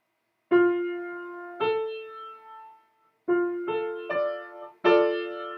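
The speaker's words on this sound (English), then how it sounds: "so a normal first inversion sixth chord is going to sound like this." Keyboard notes sound one after another, building a first inversion sixth chord in a slow, separated arpeggio, each note ringing and decaying cleanly.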